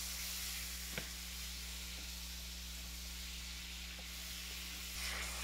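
Butter, about three tablespoons, melting and sizzling in a pan as the base for a spinach and Gruyere cheese sauce, a steady soft frying hiss throughout with a few faint clicks and a low background hum.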